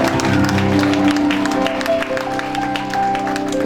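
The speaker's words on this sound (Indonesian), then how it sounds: "Mari kita berikan tepuk tangan untuk Tuhan kita." Guests clap at a wedding ceremony while sustained music plays underneath, scattered hand claps spreading through the hall over the steady held tones.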